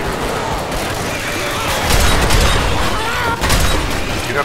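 Gunfire in Left 4 Dead 2, a loud fusillade of rapid overlapping shots and booms, growing denser partway through, with a voice briefly shouting over it.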